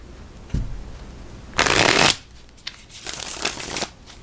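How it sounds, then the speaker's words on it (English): A sturdy cardstock tarot deck is shuffled in several bursts: a sharp riffle with a bounce at the end, then a softer, longer rustle of cards. The sound is close and fairly loud, with no talking. "Good first shuffle. Nice, strong first shuffle."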